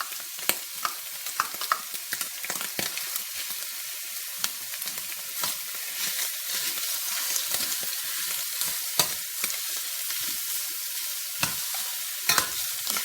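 Chopped onion sizzling and frying in a pan, a steady crackling hiss with frequent scraping stir strokes throughout, close and moderately loud, no voices.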